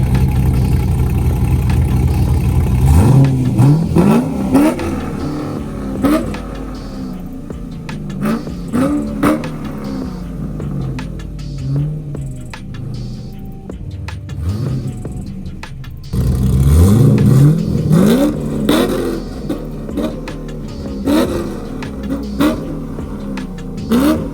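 A Corvette engine revs in neutral, several loud rising blips climbing and falling over a rough idle, close up and mostly alone, with a second burst of revving after a quieter stretch.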